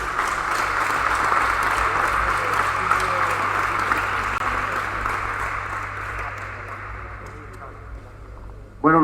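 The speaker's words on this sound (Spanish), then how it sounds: "por favor un gran aplauso para Quique" An audience applauds a speaker after a talk on improving basketball by changing its rules, a steady, dense clapping that gradually thins out over several seconds, with a voice speaking faintly underneath.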